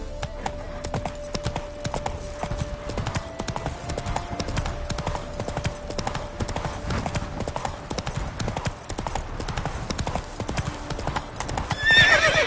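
A horse gallops in The Witcher 3, with rapid rhythmic hoofbeats clopping steadily and close throughout, along with occasional whinnies and faint game music underneath.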